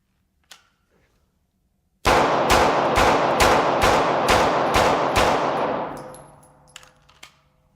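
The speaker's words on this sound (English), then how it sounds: "I'm actually going to try to just go ahead and rapid fire, spread it out around the vest more realistically" Rapid string of about nine gunshots fired into a civilian ballistic vest on a dummy, evenly spaced sharp cracks with metallic ring, loud and close, followed by a fading echo and a few faint clinks.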